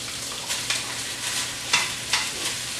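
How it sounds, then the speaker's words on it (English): Cooked, slightly sticky rice goes into a hot wok and is stirred, giving a loud, continuous sizzle with several quick scraping bursts from the stirring, and nobody speaks. "So I'm going to toss in the rice"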